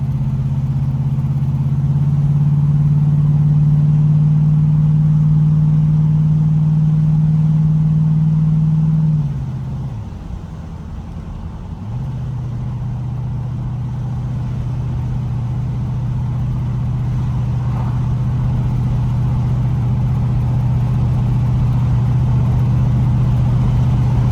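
Engine of a G-body car running a Holley 750 vacuum-secondary carburetor and TBI heads, driving while still cold: a loud, steady low drone that dips for a moment midway, then settles back into a strong, even hum.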